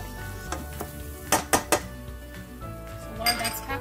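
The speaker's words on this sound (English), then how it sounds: "And continue frying for another 2 to 3 minutes" Spicy Nellore-style fish curry paste and powders fry on a low flame in a pan while a utensil stirs, with soft sizzling and several sharp clinks and scrapes of metal against the pan.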